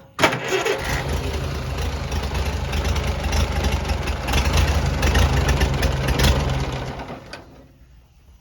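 A Farmall BN tractor engine fires and runs steadily after its magneto wiring is reworked, a loud, continuous mid-pitched mechanical clatter that holds for several seconds and then cuts off abruptly.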